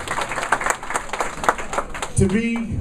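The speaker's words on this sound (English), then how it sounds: "Give her a round of applause, please." An audience at a networking event claps in a scattered round of applause, moderate and close. A voice speaks over the last part as the clapping fades.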